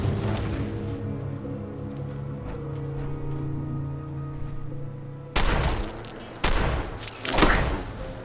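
Heavy gunfire in Fallout 4 arrives as a few loud, booming blasts late on, after a stretch of steady low humming background.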